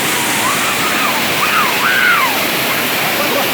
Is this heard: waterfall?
yes